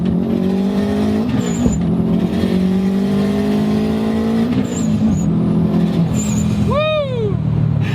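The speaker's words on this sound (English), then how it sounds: "you can physically hear the wastegate working" A 450-horsepower Subaru accelerates hard under boost, a loud, continuous rising engine note broken by repeated wastegate flutters and chirps between gear changes.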